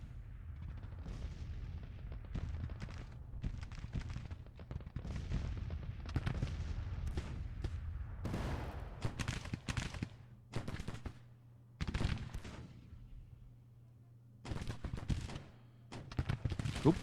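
Civil War artillery guns firing in the Grand Tactician: The Civil War video game, with rumbling volleys followed by sharp, separate booming shots spaced by short pauses, loud and fairly close.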